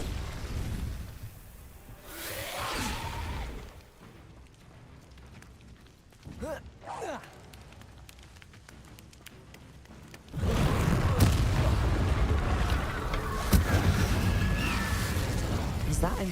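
Spell-casting effects in Hogwarts Legacy, with whooshing bursts and booming magical impacts, quieter stretches in between, then a loud sustained rush of effects near the end while a voice calls out spell names.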